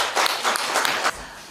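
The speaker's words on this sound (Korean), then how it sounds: "박수 한번 주십시오." Brief audience applause at a book launch event, a short burst of clapping that ends after about a second.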